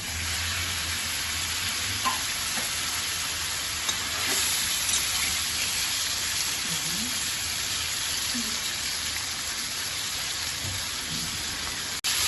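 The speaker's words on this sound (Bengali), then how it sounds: "মাছটা ভাজার জন্য কড়াতে তেল দিয়ে দিলাম" Prawns frying in hot oil in a wok give a steady, dense sizzling hiss that runs unbroken and close throughout, with no voices over it.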